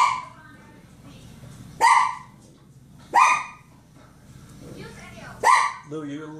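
A dog barks three sharp, loud times close by, spaced about a second apart, with a softer yip at the end over a low background hum.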